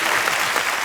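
A studio audience at The Kapil Sharma Show claps in a brief, dense burst of applause that is steady and fairly loud throughout.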